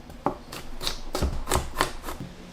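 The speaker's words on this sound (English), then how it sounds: "First let's cut the vegetables." A knife chops garlic on a cutting board, giving about six crisp, evenly spaced thuds at a steady rhythm, close and clear with no talking.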